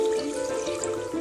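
Water pours into a cooking pot for chicken aloo shorba, a short close splashing and gurgling stream with a rising tonal fill.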